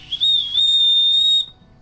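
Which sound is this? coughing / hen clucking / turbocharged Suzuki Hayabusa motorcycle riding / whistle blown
whistle blown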